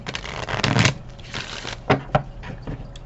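Oracle life purpose cards being shuffled by hand, a run of soft papery riffles and slaps, close and fairly quiet, with a few sharper card flicks near the end.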